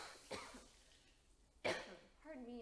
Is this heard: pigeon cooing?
no